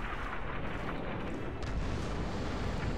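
Artillery shelling in the World War II shooter Red Orchestra 2, a dense, loud rumbling roar of explosions that fills the whole stretch with continuous booming and no clear pauses.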